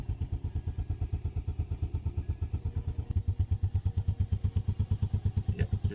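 A motorcycle engine idles just after an oil change, a close, steady thumping pulse of rapid even beats that grows slightly fuller partway through.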